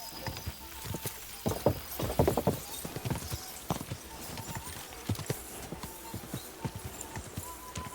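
Horse hooves galloping in the medieval video game Kingdom Come: Deliverance 2, a steady run of clip-clop beats with a few louder clusters, close and fairly quiet over a faint ambient bed.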